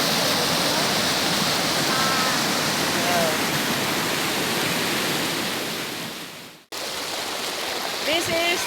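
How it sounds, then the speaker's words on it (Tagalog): Shallow river water flows steadily in a calm swimming area suited to kids, a continuous broadband rush that stays loud throughout, with a brief dropout near the end and faint voices in the background. "This is the linaw portion where the water is shallow and relatively safe, especially for kids."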